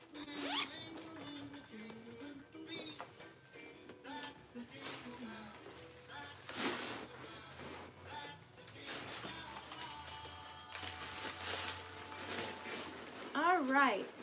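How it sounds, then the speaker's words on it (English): The zipper on a purse with a tassel zipper pull is pulled open and shut in several quick rasping strokes, close and clear, while someone talks over it and between the zips. "tassel zipper pull."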